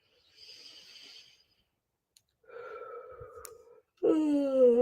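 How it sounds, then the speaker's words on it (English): A person yawning during a calming breathing exercise: soft breathy sounds, then a loud, close, drawn-out voiced yawn at the end, with no talk. "Yawning straight away."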